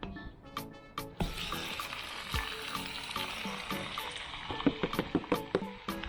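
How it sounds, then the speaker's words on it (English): Chunks of meat sear in hot oil inside a camp oven, a steady close sizzle and crackle with sharp clicks and knocks of the pot and utensils, no talk. "It's time to put the meat in and sear the meat."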